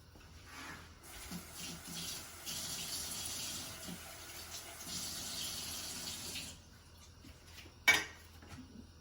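Crushed tomatoes pour from a can into a pot of chili in a home kitchen, a steady wet gushing pour lasting several seconds at close range, followed by a sharp metallic clink near the end.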